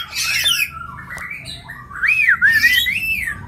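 A locally bred Hong Kong boxer bird calls up close, first with a harsh squawk, then with a louder warbling whistle that rises and falls over a soft background hum.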